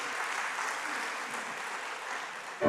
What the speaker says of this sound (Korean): 은혜 주신 하나님께 영광의 박수, 영광의 박수